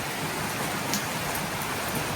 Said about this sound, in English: it's raining heavily and we have a rain warning